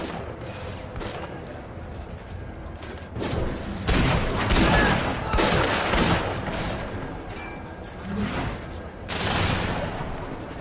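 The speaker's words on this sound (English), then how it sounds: "I can do blind fire as well." Blind-fire gunshots in the Sleeping Dogs video game, a fusillade of loud repeated shots bursting in clusters over steady background action noise.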